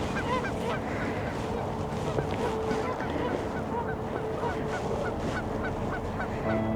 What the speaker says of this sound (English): Hear the geese on the water.